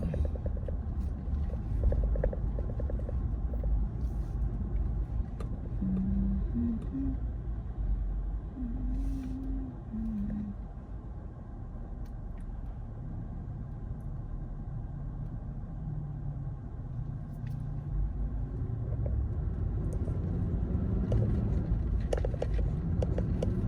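A car drives along a bumpy, snow- and salt-damaged city road toward a bridge: a steady close low rumble of the engine and tyres continues throughout, with faint thumps over rough patches and no talking.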